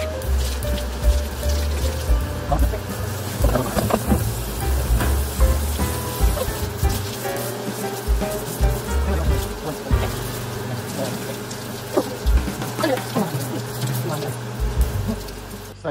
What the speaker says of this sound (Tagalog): So, hugasan na po natin ng lukewarm water.